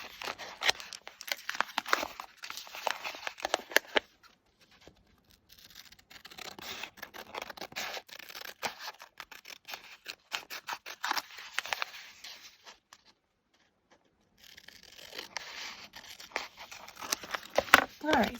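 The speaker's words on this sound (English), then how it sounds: "I just cut to the inside of my pencil lines." Scissors snipping through contact paper while trimming a desktop organizer craft piece, a run of quick close cutting and crinkling bursts with short pauses between passes, under no talk.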